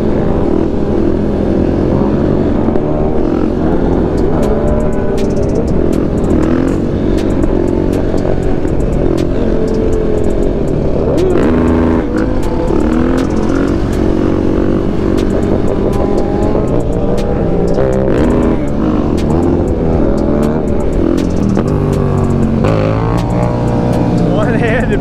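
MZ motorcycles accelerate hard along a highway, engines droning and revving loudly and continuously for the whole stretch, with wind rush and other traffic mixed in.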